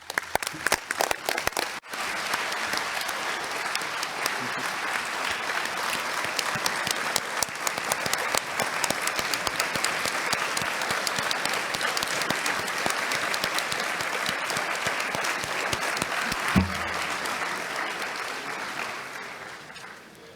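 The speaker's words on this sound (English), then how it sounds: "kindly rise and applaud our own Dr. Olumuyiwa Aliyu for the good job well done" Delegates at the ICAO 40th Assembly plenary rise and give a standing ovation for Dr. Olumuyiwa Aliyu, a long, loud, continuous wave of clapping that fills the hall and fades near the end.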